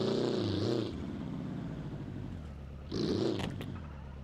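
A drag car in the BeamNG driving game revs hard with a rising, warbling engine roar, drops to a lower rumble, then surges loudly again near the end, close and without talk.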